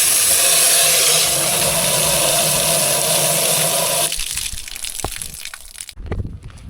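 Water hose spraying up inside a car part during an oil change, a loud close rushing gush that cuts out partway, leaving quieter splashing, dripping and clatter.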